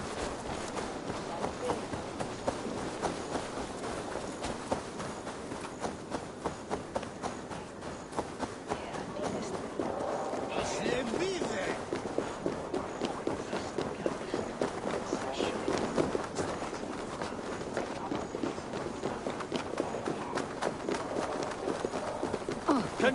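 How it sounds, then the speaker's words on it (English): A horse gallops in the Assassin's Creed Valhalla video game, a steady stream of rapid hoofbeats running throughout, with faint voices now and then. "Well, where did this horse come from?"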